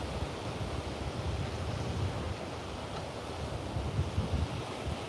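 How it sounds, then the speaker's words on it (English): Strong wind blows steadily across a Melbourne beach, a broad continuous rush with soft gusting swells and no voices. "It's pretty windy."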